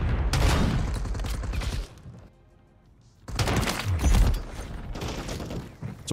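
Sniper rifle shots from quick scopes in a video game crack in dense loud bursts, broken by a brief quieter gap before the firing resumes.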